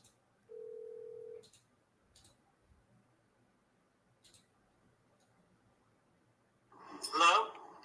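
An outbound office telephone call being placed: a single steady tone of about a second, then several faint isolated clicks and a long quiet gap before a voice briefly speaks near the end.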